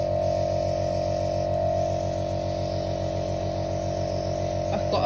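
An airbrush at fairly high pressure sprays paint in a wide, fat pattern, giving a steady close hiss over a constant hum from the compressor.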